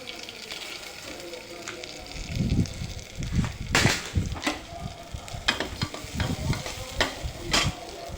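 Drained rice tossed into a pan with cumin for jeera rice, frying with a close sizzle under loud, rhythmic spatula scrapes and stirring strokes that pick up in the second half.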